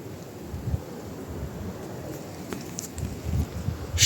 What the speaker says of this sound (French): Juste le vent.